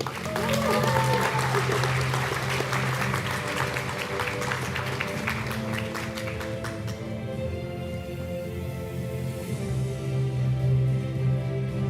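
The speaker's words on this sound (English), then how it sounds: "A round of applause for our Executive MBA graduates." An audience at a business school graduation ceremony for Executive MBA graduates claps warmly and continuously, with dense, even applause sustained through the clip and a faint background hum beneath it.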